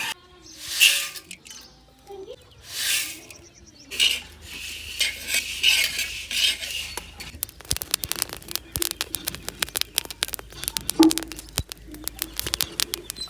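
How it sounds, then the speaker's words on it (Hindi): Dry crackling and ticking from grains roasting in a hot pan, with scraping stirring sounds and occasional bird calls in the background. "अभी ये भूनने जा रहे हैं। इनकी तिड़ तिड़ भी आपको सुनाई दे रही होगी"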